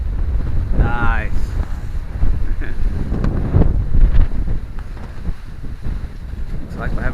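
Seawind 1000 catamaran running downwind through swell near Sydney Heads at about 7 knots, loud wind buffeting the microphone over rushing water, with a brief voice and cheer early on.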